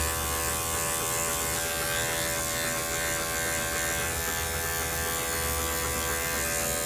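Close, steady buzzing of an electric dog clipper cutting through matted Goldendoodle hair, a continuous motor drone that stays even throughout without talking.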